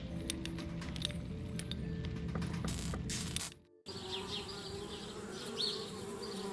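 Bees buzz in a continuous insect drone in the video game Anna's Quest, steady and fairly close, with a short break of near silence partway through before the buzzing returns slightly thinner.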